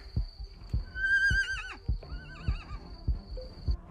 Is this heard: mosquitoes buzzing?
no